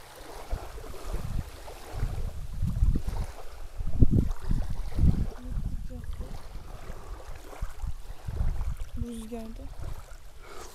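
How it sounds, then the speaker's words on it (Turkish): Gusty wind buffets the microphone at a riverside family tent campsite on a cold morning, low rumbling bursts rising and falling throughout, with people talking over it. "Biraz daha erken de çok rüzgar var."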